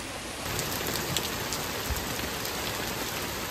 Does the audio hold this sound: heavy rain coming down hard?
yes